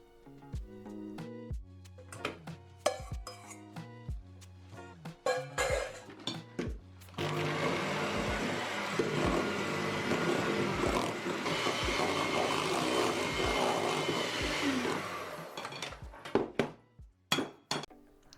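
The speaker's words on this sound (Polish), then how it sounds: "Po każdym dodaniu mieszamy mikserem do połączenia składników." An electric hand mixer beats cooled custard into a coconut cake cream, whirring steadily for several seconds between clinks and taps of utensils against the bowl.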